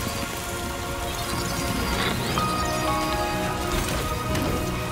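Steady heavy rain falls in the video game Death Stranding 2, a dense, even patter of drops on surfaces that continues without a break.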